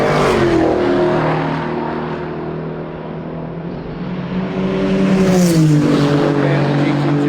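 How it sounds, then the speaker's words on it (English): A Dodge Charger race car drives past on a track at Summit Point, its engine droning steadily, easing off, then rising again in pitch as it nears and passes, loud and close. "comes David in the Charger"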